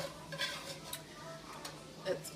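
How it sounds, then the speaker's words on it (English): A spoon stirring bacon into home-canned potato soup in a pot, soft scraping and light clinks against the pot over a quiet simmering background, with a couple of sharper knocks. "Give it a good stir."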